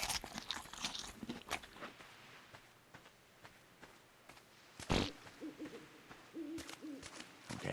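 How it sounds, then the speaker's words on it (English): An owl hooting in the game Ark, a few short hoots heard among crunchy rustling footsteps and scattered ambient noises in a quiet wilderness setting, no talking. "That sounds like an owl."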